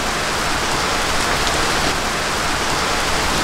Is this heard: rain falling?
yes